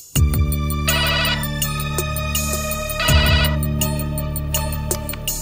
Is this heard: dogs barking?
no